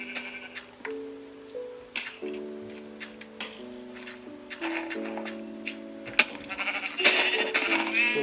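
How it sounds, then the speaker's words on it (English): Sheep bleating in the video game Minecraft, several short wavering bleats repeating over a background game music tune, moderately loud with no talking. "Kill some sheep for some wool."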